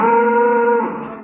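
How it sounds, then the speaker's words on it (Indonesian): A dairy cow gives one loud, close moo that lasts about a second before fading off. "Sapi."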